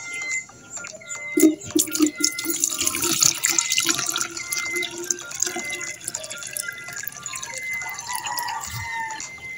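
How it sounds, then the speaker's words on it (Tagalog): Water is poured into a container to mix with poultry medicine, splashing and trickling up close with uneven gurgles and drips, and a faint chicken sound appears near the end. "Lagyan na po natin ng tubig."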